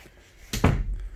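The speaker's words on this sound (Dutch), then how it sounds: "Wij sluiten vervolgens de deur weer." An indoor door in a physiotherapy treatment room swings shut with a single close, dull thud, followed by a short rattle of the latch and a brief settling noise.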